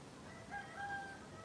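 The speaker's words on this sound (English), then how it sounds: "Regular chickens, and that's the rooster over there." A rooster on a small Grenada homestead crows faintly in the distance, a brief wavering call over soft outdoor background noise.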